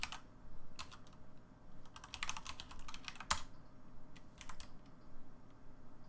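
Rapid, uneven keystrokes on a computer keyboard, tapped during a Linux terminal session, come in bursts with brief pauses and one sharper key hit. The typing is close, moderately quiet, and heard alone.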